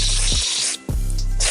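Brake cleaner is sprayed onto an old transmission filter from a 1995 Lexus LS 400, giving two loud, close hissing spray bursts split by a brief pause.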